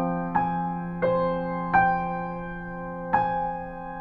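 Piano plays the right-hand pattern of a song from Frozen over a sustained F perfect fifth, four soft notes struck at an unhurried, uneven pace and left to ring.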